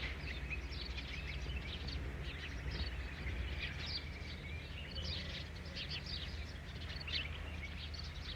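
Bulbul birdsong in the background on a motorbike tour through Balochistan and Khyber Pakhtunkhwa: faint, scattered chirps and short calls repeating over a steady low rumble of wind and engine noise, distant, with no talking.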